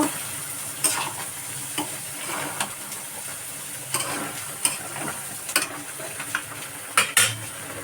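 Vegetables fried in a pan for a vegetarian curry are stirred with a utensil, giving steady close sizzling broken by irregular scraping clatters and knocks against the pan.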